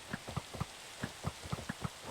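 Rain in Minecraft falls as a soft steady patter, with faint irregular drop-like taps through a brief stretch.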